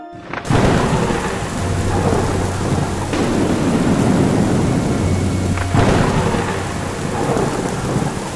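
A loud thunderstorm in an animated Vietnamese folk-tale film: heavy steady rain pours throughout, with booming thunder cracks near the start and again later.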